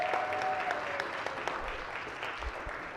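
Applause fills a state senate chamber as visiting elementary school students are welcomed, a steady wash of many hands clapping at moderate distance with a faint tone running early on.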